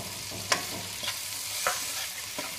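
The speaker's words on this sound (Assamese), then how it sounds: "এইখিনিতে অকণ লৰাই দিওঁ" Tamarind pickle with chili and coriander powder stirred in a hot pan: a steady oily sizzle broken by about four sharp scraping strokes of the spoon, close and fairly quiet.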